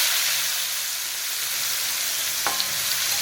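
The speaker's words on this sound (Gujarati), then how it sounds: "હિંગ નાખી, થોડી ઝીણી ડુંગળી," Asafoetida and finely chopped onion sizzle and hiss steadily in hot oil in a home kitchen, close and continuous, with a brief faint clink near the end.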